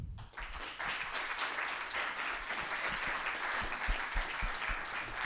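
Audience applause at a New York Film Festival live talk welcoming director Cristian Mungiu, a full, steady wash of clapping from a large crowd that starts abruptly and holds for several seconds.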